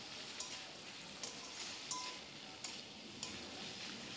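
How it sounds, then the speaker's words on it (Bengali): Onion-garlic paste stirred and frying in a pan for Bengali egg bhuna, a steady soft sizzle with a few light scraping taps of the spatula at regular intervals, no talking. "সেই পেঁয়াজ বাটা আমি এর মধ্যে দিয়ে ভালো করে নেড়ে চেড়ে নেব"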